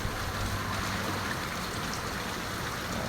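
Overnight rain and floodwater pour steadily during Typhoon Carina in a flooded neighborhood, a dense, even hiss of water rushing without pause, close and moderately loud.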